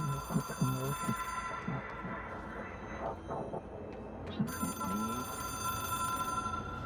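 An old-fashioned telephone bell rings in the video game Control, a continuous metallic trill over low background rumble and muffled, speech-like sounds, fading midway and then returning.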